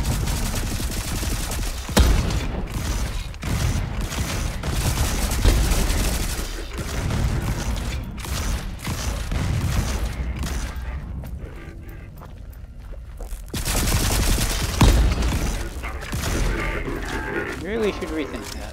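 Turret gunfire in the game Volcanoids crackles in rapid bursts and booms, loud and repeated, with a voice talking over parts of it.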